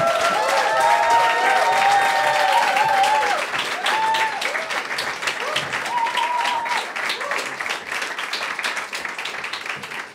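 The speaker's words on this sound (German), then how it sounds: "Einen wunderbaren Applaus für das Team Dogs Watch" Audience applause for a youth hackathon team in Austria, a room of people clapping steadily for about ten seconds, with tonal electronic music notes playing at the start and talk faintly beneath.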